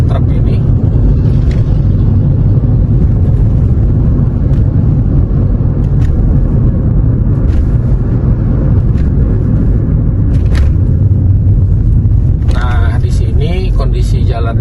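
A car drives along a road from Pangkalan Bun to Sukamara, Indonesia, overtaking trucks near a flyover, giving a loud, steady engine and road rumble throughout with a person talking over it.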